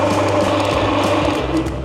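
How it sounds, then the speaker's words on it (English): Parkside PTBM 550 A1 bench drill motor switched on and running steadily, a loud, close, even mechanical whir with a constant pitch and no speech over it. "Here I switch on the plug. We are switching it on, guys. Working!"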